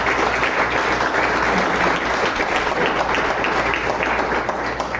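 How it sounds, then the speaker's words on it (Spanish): A church congregation applauds steadily and loudly throughout, a dense wash of clapping with no pauses. "Un aplauso al Señor."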